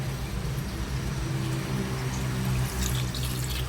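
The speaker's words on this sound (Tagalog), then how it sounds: "So pwede na nato ni butangan og tubig." Water pours steadily into a cooking pot for fish tinola soup, a continuous splashing rush at close range with no talk over it.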